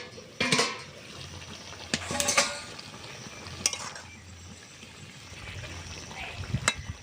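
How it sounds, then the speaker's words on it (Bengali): A lid comes off a pot of simmering vegetable curry with a few scattered metallic clanks and knocks against a quiet bubbling background. "চাপাটা খুলে দেখি কতটা সিদ্ধ হলো।"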